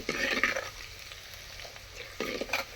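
Garlic and small shallots sauté in a clay pot over a wood-fired stove, with short bursts of sizzling and stirring at the start and end and quieter frying between.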